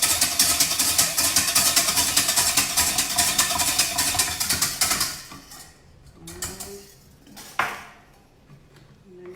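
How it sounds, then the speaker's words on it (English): Butter and eggs are whisked rapidly for hollandaise sauce, a steady fast metallic clatter in a bowl for about five seconds, then stopping, followed by a few faint clinks and handling noises. "Here we go with the whisking again."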